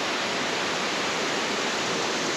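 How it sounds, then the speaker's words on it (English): A river flowing into a swimming area at Greenbrier Campground in the Smoky Mountains near Gatlinburg, Tennessee, a constant even rush of water with no voices. "As you can see, the river is flowing this way into the swimming area"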